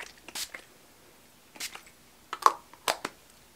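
A L'Oreal Infallible Makeup Extender setting spray gives several short, close hissing spritzes in quick bursts, with brief pauses between them and no talk.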